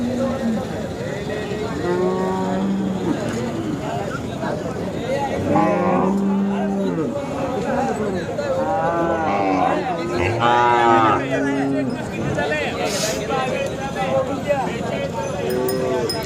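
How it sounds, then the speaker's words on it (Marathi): Khillar cows mooing at a busy cattle market, several low drawn-out calls rising and falling across the stretch, close and loud, with people talking throughout. "ही पण एक चांगली देखणी गाय आहे"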